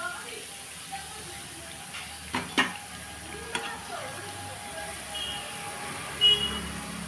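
Thekua sweets deep-frying together in a large pot of oil, a low, soft sizzle with a few brief clinks and scrapes of a utensil.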